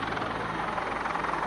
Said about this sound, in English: And another visit from our helicopter friends.